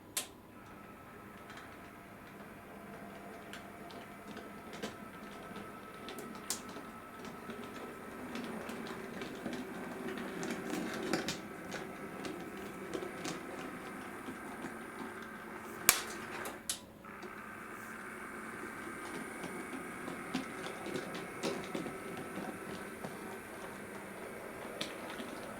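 A TTS Merchant Navy Class model steam locomotive in Holland Africa Line livery running on track, a quiet ticking and clicking of wheels over rail joints that gradually grows a little louder, with soft motor whir beneath.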